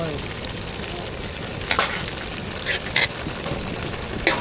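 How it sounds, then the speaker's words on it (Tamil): Potatoes and meal maker stirred and frying in a pan: a loud, continuous hiss of sizzling oil with a few brief scrapes of a spoon against the metal, close up and without speech. "உருளைக்கிழங்கு சேர்த்தாச்சு ரெண்டையும் சேர்த்து நல்லா கலந்து விட்டுக்கலாம்"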